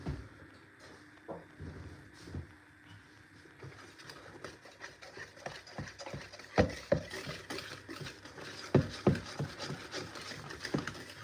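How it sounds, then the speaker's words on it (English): Cake batter being quickly whisked in a bowl to break up lumps before folding in egg whites, heard as uneven scraping and rubbing strokes with a few sharper clinks, close and moderately loud. "Let me give it a quick whisk because I can't see some lumps there."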